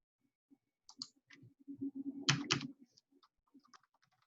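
Code is typed on a computer keyboard in short, quiet bursts of clicking keystrokes, with a quick cluster of sharper, louder taps near the middle and sparse single key presses around it, close by and heard alone.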